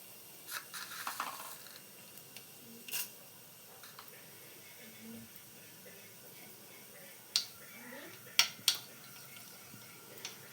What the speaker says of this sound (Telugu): ఆవాలు జీలకర్ర ఇలా కాస్త చిట్పట్లాడుతున్నప్పుడు